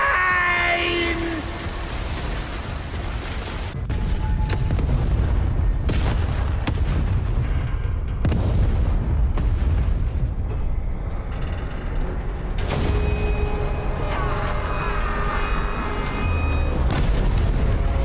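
A tank explodes in the video game Zombie Army 4: Dead War, with a loud booming blast and repeated heavy impacts mixed into dense battle noise and game music.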